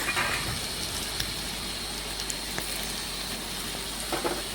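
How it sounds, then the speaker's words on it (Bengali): Potatoes fry in a pan with turmeric, salt and a cumin-mustard paste as they are stirred, giving a continuous soft sizzle with scattered small clicks and scrapes of the spoon. "বেশ কিছুক্ষণ সময় নিয়ে নাড়াচাড়া করে একটু আলুগুলো ভেজে নিচ্ছি"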